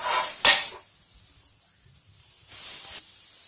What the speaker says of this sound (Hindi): बटर को हम ऐसे चम्मच से फैला देंगे।